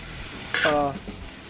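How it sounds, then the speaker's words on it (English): Beef stir-frying with garlic and ginger for a Szechuan beef dish, a brief sudden sizzle that flares up and then settles under a soft pan hiss. "let me get my meat stirred up with the garlic and ginger"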